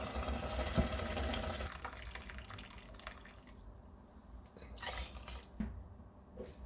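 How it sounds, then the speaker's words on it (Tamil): Hot water poured from a cup into a pot of rice, giving a steady liquid splashing and dripping sound, close and moderately loud, easing off toward the end. "இதால் ஒரு அஞ்சு கப்பு தண்ணி இதில் நான் விடுறேன்"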